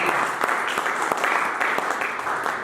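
Congregation at a French-language church worship service clapping together in a steady, dense wash of applause with faint voices mixed in, continuous and fairly loud throughout.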